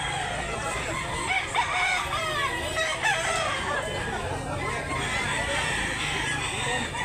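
Roosters crow repeatedly amid a steady chorus of clucking from many chickens at a rooster market in Barili, Cebu, a dense, continuous farmyard din with no clear pauses.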